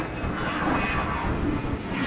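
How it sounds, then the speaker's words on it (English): An airplane roars overhead above a residential neighborhood as a steady, broad rushing drone that holds level throughout. "these airplanes are loud"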